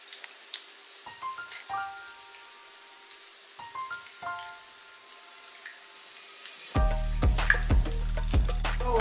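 Unniyappam batter fries in a pan. The first part is quiet, with a few faint tonal chirps, and then a loud, close, crackling sizzle breaks out near the end and continues steadily.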